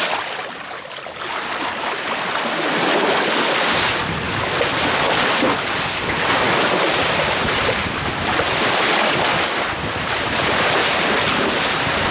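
Steady roaring wind buffets the microphone aboard an old sailing catamaran, rising and falling in broad gusts over rushing water and surf, loud and continuous with no voices.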